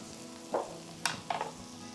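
Chicken pieces go into a pan of Schezwan fried rice, giving a few short sizzles and scraping stirs, quiet and close, separated by brief pauses.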